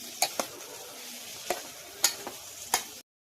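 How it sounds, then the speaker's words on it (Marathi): Tomatoes are stirred as they cook down in a pan: a steady soft sizzle with several sharp spatula clicks and scrapes at an uneven rhythm, close by and with no talking. "टमाटरला छान पैकी हलवायचं. जोपर्यंत ते गळत नाही तोपर्यंत हलवत राहायचं त्याला."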